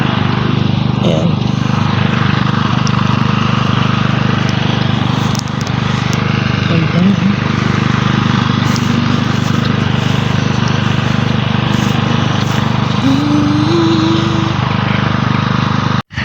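A grass cutter runs along a roadside field, its engine holding a loud, steady droning roar for about sixteen seconds, with the pitch rising briefly near the end.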